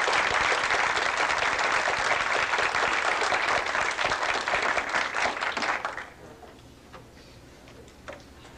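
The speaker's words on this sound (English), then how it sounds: "So a round of applause for all these people." Sustained audience applause at a youth dinner theater, dense and steady clapping from a full room for several seconds before tapering off to scattered claps and quiet murmur.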